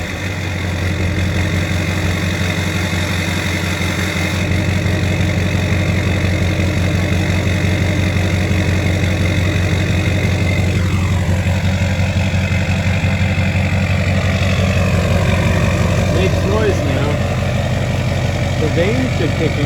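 2006 GM LBZ Duramax diesel with a 5-inch MBRP stainless exhaust idles with a steady low rumble and rattly knock close by, while a voice talks over it.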